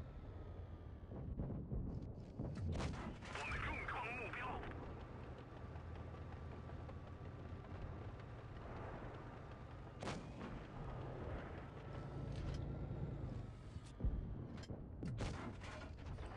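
Tank cannon fire in World of Tanks Blitz, tier 9 heavy tanks in battle: repeated booming gunshots with sharp transients over a constant low engine rumble, loud and fairly close, with no speech.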